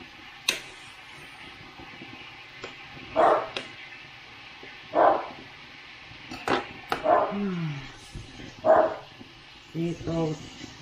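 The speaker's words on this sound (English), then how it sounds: "now the dog's barking" A dog barks several times in short bursts at a moderate distance, with quiet background noise between barks.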